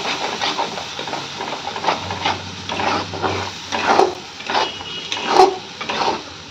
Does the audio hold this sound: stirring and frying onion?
yes